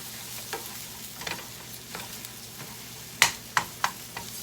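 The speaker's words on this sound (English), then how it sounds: "Now I'm going to go in and stir my scrambled eggs" Scrambled eggs stirred in a pan with the burner off, a utensil scraping in soft, irregular strokes, then a few sharper clicks against the pan near the end, close and fairly quiet with no talking.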